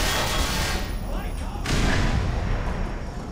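Gunfire in the Black Mesa shooter, a couple of booming shots with a loud crack near the middle over a rumbling game background.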